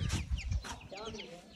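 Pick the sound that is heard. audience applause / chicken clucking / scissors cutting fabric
chicken clucking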